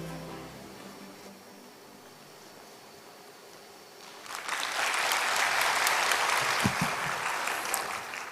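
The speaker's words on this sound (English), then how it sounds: "Please welcome the Governor with a warm round of applause." Audience applause breaks out after a quiet stretch, a dense sustained clapping that swells and holds at a steady level through the rest of the clip, at a World Environment Day event in Jeju.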